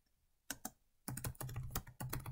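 Typing on a computer keyboard, two isolated keystrokes followed by a quick burst of rapid close-up clicking, crisp and quiet with no talk.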